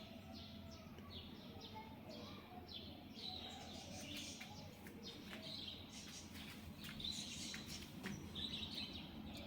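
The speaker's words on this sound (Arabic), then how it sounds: "الشجرة والعصافير عمالة تطير بتزقزق" Small birds chirp and tweet repeatedly in short, high calls, faint and somewhat distant against a quiet outdoor background.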